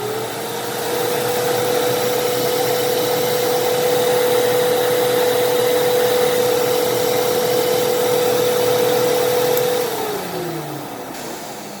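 A Fantom Fury 12 amp vacuum cleaner starts up, runs with a loud, steady motor whine for several seconds, then winds down as it is switched off.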